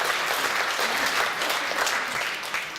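A concert audience at a throat-singing performance in Abakan claps steadily, a dense, even wash of applause that fades slightly toward the end.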